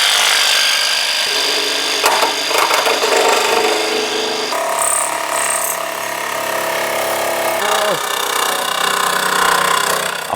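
A powerful power tool cuts into the plastic bumper of a Porsche 964, a loud, continuous harsh grinding whine with shifting pitch and brief bites, heard close and alone.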